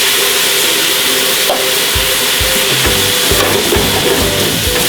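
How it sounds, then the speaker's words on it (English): White wine poured into a hot pan sizzles loudly, a dense continuous hiss with crackling bubbles and a few soft rhythmic knocks underneath, no talking. "So we're gonna add our white wine."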